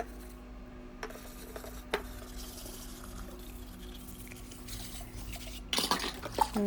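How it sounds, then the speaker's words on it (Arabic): Quiet kitchen sounds of dishwashing: soft clinks of dishes and utensils, a trickle of water, and a louder rush of running water near the end. "شغلة غسل المواعين شي ممتع حلو"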